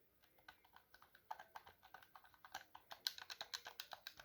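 Buttons on a generic PS4 controller pressed over and over in a quick test, a steady run of small plastic clicks and taps that grows slightly louder and faster toward the end, close and quiet with no talking.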